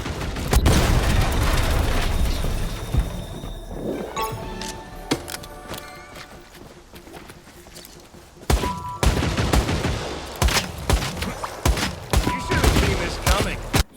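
Rapid bursts of video game gunfire from the shooter Hawked, dense volleys at first, then a quieter stretch before sharp shots return in clusters, with faint voice-like sounds mixed in.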